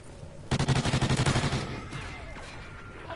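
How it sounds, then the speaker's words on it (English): A rapid string of loud gunshots rattles off in a Call of Duty game, about a dozen evenly spaced cracks in a second, then fading into quieter scattered shots and ambient noise. "I don't even like this pistol"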